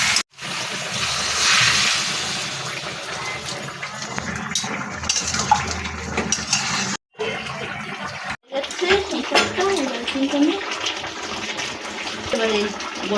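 Water is poured into a pan of cooking jackfruit curry with prawns, a short gushing splash and then sizzling and bubbling, while a voice talks over it.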